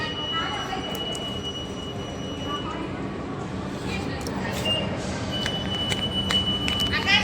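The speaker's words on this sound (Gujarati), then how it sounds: "આજે મેટ્રોમાં આવી ગયા" A Mumbai metro train rides along, its interior filled with a constant rumble of wheels and carriage noise, thin metallic squeals and occasional chimes, and passengers talking nearby.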